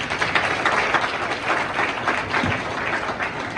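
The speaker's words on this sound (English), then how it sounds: "a round of applause for Kobe J." An event audience gives a round of applause, a dense, even roar of many hands clapping at a steady level for several seconds with no talk over it.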